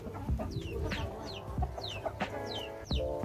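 Chickens cluck and chatter in short repeated calls, close by, over a soft background murmur of farmyard noise.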